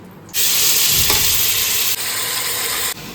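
Mutton fries in ghee in a hot pressure cooker, giving a loud, steady sizzle that cuts in abruptly and carries on with a few short breaks.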